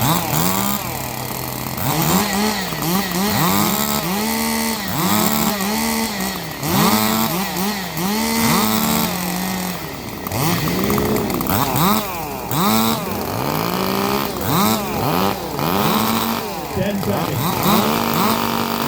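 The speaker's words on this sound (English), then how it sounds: "30 seconds to warm up your saws." Several chainsaws rev and rip at a wood-sawing competition, engines rising and falling in overlapping bursts throughout, loud and close, with an announcer's voice faintly underneath.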